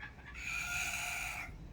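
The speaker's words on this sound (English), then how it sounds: "this is finally the poultry yard at the bottom of the garden" A chicken in a backyard farm poultry yard at the bottom of a garden gives a single drawn-out call, moderately close, over faint background noise.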